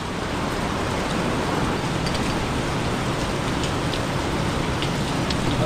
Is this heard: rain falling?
yes